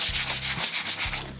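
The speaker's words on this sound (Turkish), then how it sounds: "Tekrar hafiften bir zımpara çekiyoruz." Sandpaper rubs lightly over a wooden candle holder made from pruned tree branches, in about six quick, even back-and-forth strokes, close and clear with no talking.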